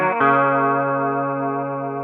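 An electric guitar run through effects with a chorus-like shimmer and light distortion plays an intro turnaround, sounding as a short attack followed by a single sustained ringing chord that slowly fades, close and alone.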